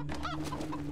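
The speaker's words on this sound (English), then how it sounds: "they all look to be regular chickens" Chickens in the video game Wasteland 3 give a brief run of clear, close clucks over a steady low background hum.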